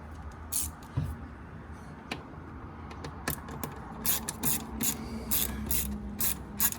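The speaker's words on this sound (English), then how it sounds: "Start undoing the hose clamps." A ratchet wrench clicks in short bursts while loosening 7 mm hose clamps on a Porsche Boxster 986/987 during an air oil separator replacement, with rapid close pawl clicks over faint background hum.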